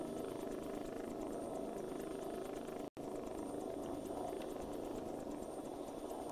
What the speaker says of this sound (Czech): Mají krásný zvuky teda. Nádherně ozvučený ty vrtulníky jsou.